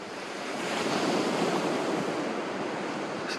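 Wind and breaking sea waves on Eastern Beach, Gibraltar, form a steady broadband roar with microphone buffeting, swelling slightly and then holding, close to the water and fairly loud, with no voices.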